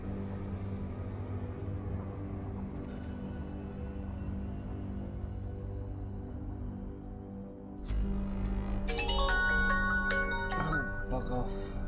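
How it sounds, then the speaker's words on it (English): A phone ringtone sounds as an incoming call arrives, a bright repeating melodic tone that starts suddenly partway through and rings loudly over a steady low rumble of background game noise. "I have to take this phone call because I've been ringing all day."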